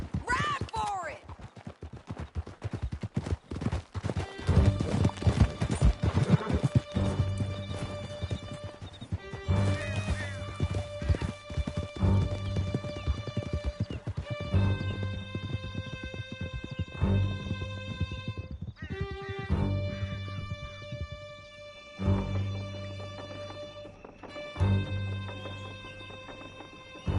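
Several horses gallop in Red Dead Redemption 2, with rapid hoofbeats, loud neighs and whinnies, and scattered gunshots over a dramatic orchestral score, close and busy throughout, with voices shouting at times.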